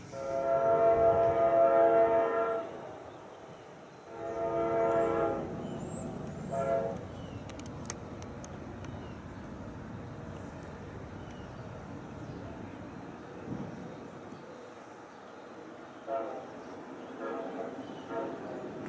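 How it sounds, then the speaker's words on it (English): A train about 100 yards from a house approaches with two long, loud horn blasts, followed by a continuous rumble of rolling cars that fades off. "As you can hear, a train is coming."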